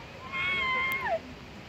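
A wild cat at the Mérida zoo in Venezuela gives a single drawn-out meow lasting under a second, clear and fairly close over a steady background hiss.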